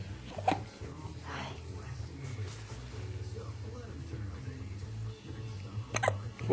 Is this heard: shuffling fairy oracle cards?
no